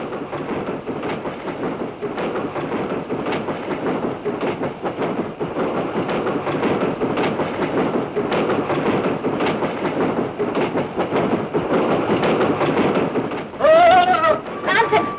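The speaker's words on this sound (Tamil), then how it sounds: "ரயில் பெட்டி ஒரே ஜோல்டி, அதாவது ஆட்டம்." Steady rattling and rumbling of a moving train carriage, with dense clattering throughout and a brief high squeal near the end.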